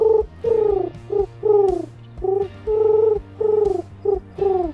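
A man imitates a wood pigeon with his voice, a rhythmic series of hooted coos in repeated phrases, loud and close, with a low steady hum underneath.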